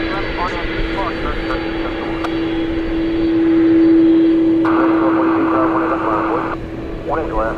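Boeing 767 jet at DFW airport, a loud continuous engine roar with a steady droning tone that swells toward the middle and eases off, heard at a distance under ongoing chatter from spotters.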